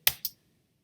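A computer keyboard spacebar is tapped twice in quick succession, two crisp close clicks with a brief silence following, used to pause video playback while editing.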